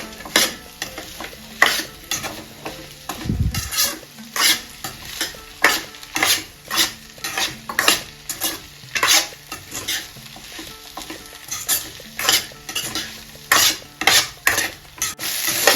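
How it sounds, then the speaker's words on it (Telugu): Coriander rice being stirred in a pan, a steady rhythm of repeated spoon scrapes and clinks over a soft continuous sizzle, close and fairly loud with no talking. "ఇలా ఫైనల్గా ఒక 5 నిమిషాలు ఇలా మనం కలుపుకుంటే కొంచెం కొత్తిమీర పేస్ట్ అనేది మనకి రైస్గా పట్టేస్తుందండి"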